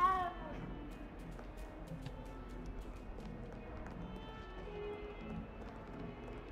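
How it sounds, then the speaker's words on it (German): A cat meows in the video game Hogwarts Legacy, with a few short harmonic calls over a busy bed of game ambience, soft footsteps and background music, and no talking. "Oh, die Katze."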